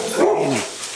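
Dog barking in a short burst: one or two close, fairly loud yelping barks with a whimpering edge, heard alone without talk.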